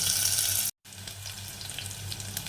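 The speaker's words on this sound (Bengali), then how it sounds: "আলুটা একটু ভাজা ভাজা হবে" Potatoes fry in hot oil for oats khichdi, a steady close sizzle with a brief drop to silence partway through before the frying hiss resumes.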